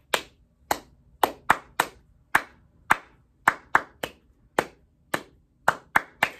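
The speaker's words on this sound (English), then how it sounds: "for the last verse, we're going to do all claps" Single pair of hands clapping along to the Bingo children's song during a storytime session, sharp close claps in a rhythmic pattern with brief pauses, loud and clear with no talking.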